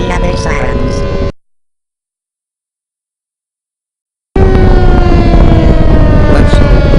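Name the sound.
Stormwatcher tornado warning siren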